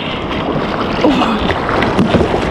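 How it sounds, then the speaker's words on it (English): A kayak is paddled on open water in Stockholm, with continuous close splashing and rushing water over wind buffeting the microphone. There is no clear talk. "I'm going to demonstrate 4 paddling techniques."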